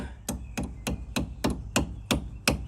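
Eight sharp hammer strikes on a metal spring clip while fitting a Land Rover Freelander 1 front brake hose, at a steady, slightly quickening pace, each a crisp close knock with a short ring.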